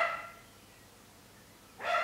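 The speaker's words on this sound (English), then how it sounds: "she often barks at the strangest of things" A very old, half-blind and deaf dog gives two short barks indoors, one at the start and one at the end, with near-silence between.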